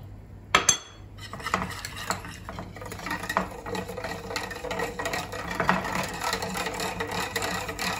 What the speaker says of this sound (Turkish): Şimdi 3'er kaşık un ve nişastamızı sütümüze ilave edip biraz çırpacağım.